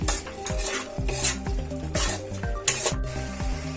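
Onion- and garlic-free spice masala with curry powder and salt fries in oil in a pan, with a steady close sizzle and rhythmic scraping stirs roughly every half second.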